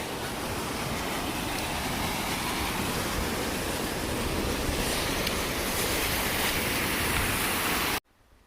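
A small waterfall beside a footbridge in the Pennsylvania Grand Canyon rushes steadily and loudly close by, like broad white noise, then cuts off abruptly near the end.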